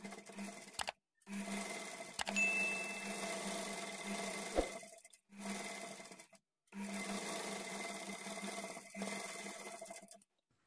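A sewing machine stitches thread piping onto a blouse sleeve in several steady runs of close mechanical whirring, separated by short silent pauses.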